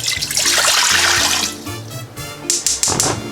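Water pours steadily into a pressure cooker for a Greek meatball soup, a close, loud rushing splash that thins toward the end with some clinks.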